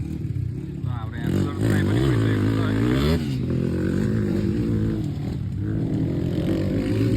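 A motorcycle engine revs and roars nearby at an outdoor bike race, rising and falling in pitch across several seconds while someone talks over it.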